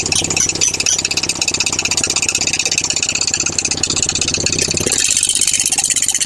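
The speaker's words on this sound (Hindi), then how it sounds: "बाइक चालू करो, एक्सीलेटर मत देना" A Yamaha R15 motorcycle in neutral idles steadily, loud and close, with a fast, even mechanical ticking and a harsh rattle from the piston area running under the engine note, and no talk.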